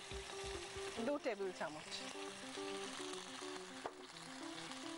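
Yogurt and spices sizzling in hot oil while being stirred: a steady, close frying hiss with occasional scraping stirs, under someone talking throughout.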